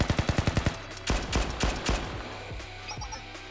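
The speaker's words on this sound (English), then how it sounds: "A gunshot? It came from that direction." Rapid bursts of gunfire from Blue Archive, a quick run of sharp shots followed by several louder, spaced single cracks, close and loud with no talking.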